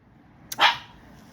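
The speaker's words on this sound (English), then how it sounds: "my dog is barking" A single sharp dog bark rings out close by against quiet room tone, one brief burst with a short tail.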